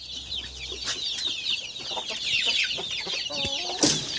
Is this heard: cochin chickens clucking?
yes